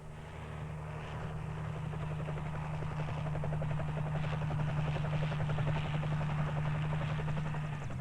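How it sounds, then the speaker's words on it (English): Helicopter flying over a large tree farm used for planting new trees, a steady loud rotor drone with deep beating hum holding constant throughout, alone without voices. "helicopters are often used to plant new trees"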